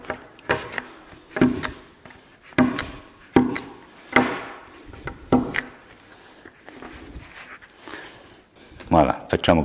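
A pounce pad is tapped through a perforated paper drawing, giving a series of soft, dull thumps in an irregular rhythm, close by with a voice talking over them.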